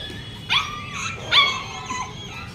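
A puppy gives two short yipping barks, the first near the half-second mark and the second about a second later, with a faint whimper after them. The barks are moderately close over a soft household background.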